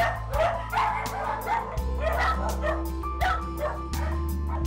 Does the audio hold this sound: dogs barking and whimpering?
yes